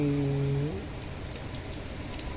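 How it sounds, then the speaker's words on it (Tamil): Heavy rain from a cyclone in Chennai falls as a steady dense hiss, constant and moderately loud throughout, with a brief tonal hum fading out at the start and no talking. "புயல் மழை"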